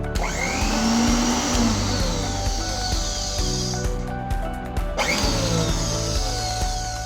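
Loud, steady whirring of an 800W Philips HL7770/00 mixer grinder motor running close by, a high buzzing drone with rattling that briefly dips and surges midway.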